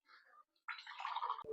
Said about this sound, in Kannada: ಅದಕ್ಕೆ ಇವಾಗ 1:2 ಲೆಕ್ಕದಲ್ಲಿ 3 ಗ್ಲಾಸ್ ವಾಟರ್ನ ಆ್ಯಡ್ ಮಾಡ್ಕೊಳ್ಳೋಣ.